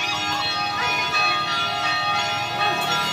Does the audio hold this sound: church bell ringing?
yes